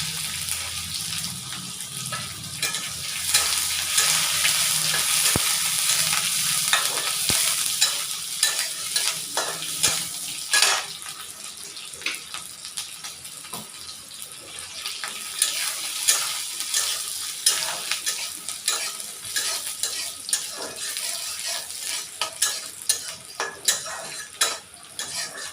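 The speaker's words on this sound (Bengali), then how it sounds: "শুকনো লঙ্কা ফোড়ন, রসুন কুচি, পেঁয়াজ কুচি" Dried red chillies, chopped garlic and onion temper in hot oil for a leafy greens dish, giving a loud, constant sizzle under frequent clinking, scraping stirs that runs for over twenty seconds with nobody speaking.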